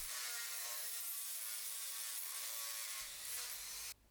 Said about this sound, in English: I can definitely grind those out